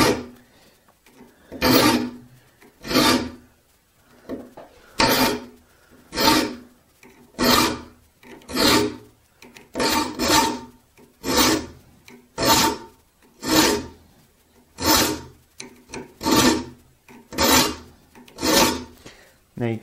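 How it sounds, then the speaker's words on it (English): A hand file rasps across the teeth of a hand saw, shaping the rake angle in close, loud strokes. They repeat steadily about every second, with brief quiet gaps between them. "I'm going to file that rake angle in"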